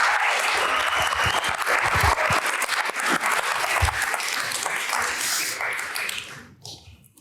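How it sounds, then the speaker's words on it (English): Audience at a service design award ceremony applauds as two student presenters come up on stage: dense, sustained clapping that holds steady for several seconds, then thins and fades out at the end. "Big hand, please. Round of applause."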